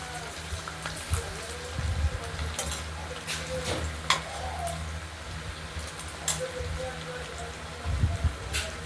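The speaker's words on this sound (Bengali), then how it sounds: "প্রতিটা পনিরের টুকরোকেই হালকা করে ভেজে নেব" Paneer pieces fry in a pan with a steady crackling sizzle, interrupted by scattered clinks and scraping from stirring and a low background hum.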